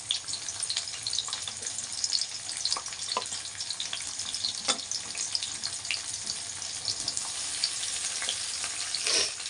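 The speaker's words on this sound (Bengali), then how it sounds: "এই দেখো এবার পেঁয়াজগুলো ছাড়ছি" Onions dropped into hot oil in a pan for chicken curry, a loud, continuous crackling sizzle with sharp pops and bursts, close by and without talk.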